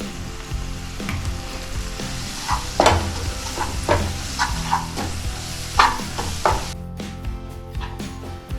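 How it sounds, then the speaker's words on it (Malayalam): Spiced potato curry cooked with meat masala is stirred in a hot pan, giving continuous loud sizzling and frying with repeated scraping and clacking of the spoon at an uneven rhythm. "ഇതെല്ലാം ഒന്ന് സെറ്റായിട്ടൊന്ന് ഇളക്കിയെടുക്കണം."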